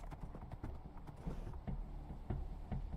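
Horse hooves clip-clopping in a steady rhythm of fairly close, muffled thuds over a low background rumble.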